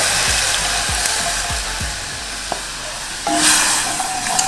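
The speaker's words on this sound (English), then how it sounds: "Ooh, we're about to start frying," Steady sizzling hiss of chicken wings frying in hot oil, loud and continuous, with a few soft knocks and clatters near the start.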